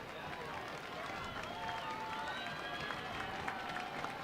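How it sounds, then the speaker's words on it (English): Crowd murmur and rumble in the stands at a college softball game, Liberty against Oregon in a Super Regional, a steady distant wash of many voices with light cheering, faint and continuous. "The crowd rumbles again."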